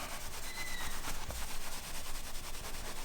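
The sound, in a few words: rubbing pressed metallic puff heat transfer vinyl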